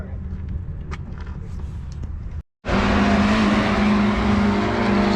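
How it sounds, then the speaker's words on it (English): A race car heads out for its first lap at the Castle Combe circuit during a track day, its engine droning with a steady high tone. After a brief cut, the engine gets suddenly much louder and holds a constant roar. "So Sam's out for his first lap."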